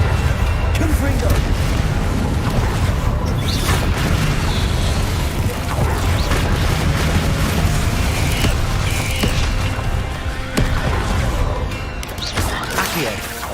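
A fiery Confringo spell blast in Hogwarts Legacy bursts amid dense, loud game combat, with rumbling booms and crashing impacts layered over constant background action.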